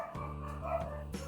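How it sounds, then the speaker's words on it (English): Dogs bark at a rabbit outdoors, a few sharp barks and yips standing out over a steady low hum, with no talking. "I do believe the dogs see a rabbit."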